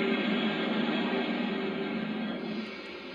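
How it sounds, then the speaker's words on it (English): Steady, loud broadband hiss of a steam blowdown effect from a Lionel Legacy Union Pacific FEF-3 Northern #844 model steam locomotive, sustained evenly for about three seconds before tapering a little. "Here's a blowdown sound effect."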